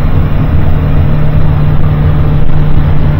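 A 2005 Seasport boat with twin Yamaha F150 outboard motors running on one motor at around 30 mph, a loud, steady engine drone with rushing water and wind, close and continuous.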